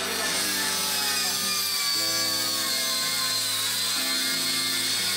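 Angle grinder cutting through a motorcycle cable lock: a loud, continuous grinding screech with a wavering pitch that shifts partway through as the disc bites into the steel cable.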